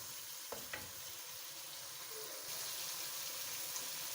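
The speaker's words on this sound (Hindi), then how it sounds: "अब बस इसे मैं 5 मिनट और भूनूंगी।" Masala frying in oil for chicken with capsicum, a soft steady sizzle with a couple of brief stirring clinks, faint and close, no talk.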